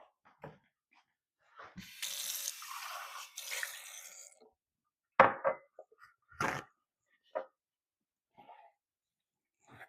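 Tap water runs for about two seconds over a measuring cup being rinsed in a home kitchen sink, followed by a few sharp clunks and knocks of the cup and utensils.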